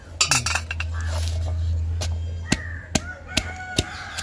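Palmyra tuber is pounded in a mortar for Jaffna-style thuvaiyal: a few sharp, evenly spaced knocks ring out close by after a brief clatter, with a sustained low tone underneath early on.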